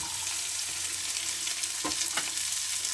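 Onion, beans and potato fry in hot oil for vegetable fried rice, giving a dense, steady sizzle with occasional scraping stirs of a spoon, close up and with no talking.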